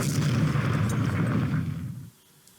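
A heavy, rumbling blast of artillery fire in the Panzer Corps strategy game, loud and broad for about two seconds before cutting off abruptly into near silence.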